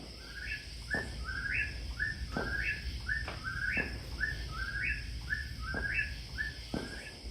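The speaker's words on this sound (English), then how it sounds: "Wow, Luke, that definitely was a bird noise." A bird calls over and over in the woods at night, a series of short rising whistled notes in a steady rhythm, fairly close, over a constant bed of cricket and insect hum.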